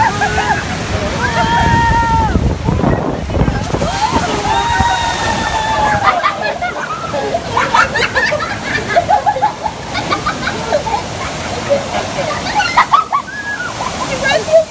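Water sloshing and splashing over a raft on the Kali River Rapids ride at Disney's Animal Kingdom, loud and churning, with riders' excited voices and shrieks over it.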